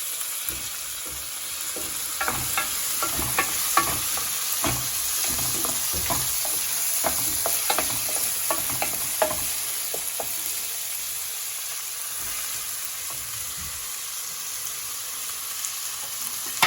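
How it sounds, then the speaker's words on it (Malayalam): Chopped tomatoes frying in a pan for mutton curry, a close steady sizzle broken by repeated scraping stirs of a spoon, alone without talk. "2 ചെറുതായി മുറിച്ച് വെച്ച തക്കാളി ഇടാം"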